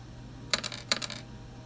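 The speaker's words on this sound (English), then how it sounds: "let me just roll a d4" A small four-sided die clatters across a tabletop during a tabletop roleplaying game session, two quick bright bursts of rattling taps about half a second apart, close by and without talk.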